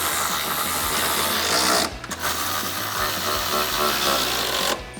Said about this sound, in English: we're going to switch to our 10 millimeter socket and a 10 millimeter wrench and tighten our 2 secondary bracket bolts down